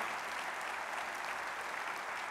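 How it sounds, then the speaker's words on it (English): A crowd at a psychedelic science conference opening ceremony applauds its advisory board members, a continuous wash of clapping heard at a distance, fairly faint. "let's give them a round of applause"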